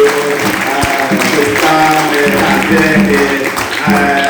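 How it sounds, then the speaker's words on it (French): Sustained applause from a church congregation, dense and loud, with many hands clapping steadily for several seconds and some mixed voices in the crowd. "Un bel applaudissement pour vous-même"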